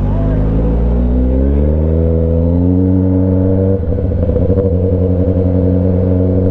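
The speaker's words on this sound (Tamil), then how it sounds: "வண்டி முறுக்கிட்டே இருக்கேன்." A superbike engine idles and revs with a deep, loud, steady drone, its pitch climbing slightly, then a burst of rougher throttle rumble midway, heard close up and continuous.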